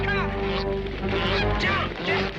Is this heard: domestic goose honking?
yes